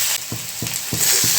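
Fresh coriander sautéing in a pan, a steady close sizzle punctuated by four evenly spaced stirring scrapes, no talk.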